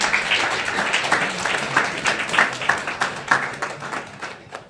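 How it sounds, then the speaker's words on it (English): Audience at a forum event applauding, a broad wash of many hands clapping with slightly uneven bursts, steady and moderately loud, tapering off toward the end. "Please give them a round of applause."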